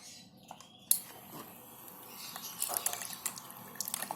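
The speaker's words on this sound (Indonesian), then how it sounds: "Air mengalir." Water from an electric pump starts flowing after a click near one second, a steady splashing trickle with scattered drips that grows a little busier toward the end, with no voices.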